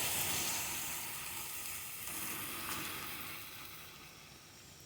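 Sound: ground onion and tomato paste added to pan and sautéed

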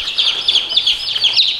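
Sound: chicks chirping in a pen

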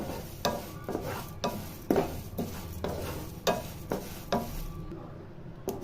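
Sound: sesame seeds frying in a pan with curry leaves

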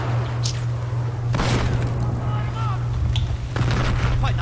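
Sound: gunfire in the video game Battlefield 4

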